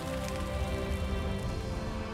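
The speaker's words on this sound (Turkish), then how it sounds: "Çöle birden yağmur yağmaya başladı." Rain falls over desert sand as a steady, dense hiss of drops with no break or change, filling the space evenly from start to finish.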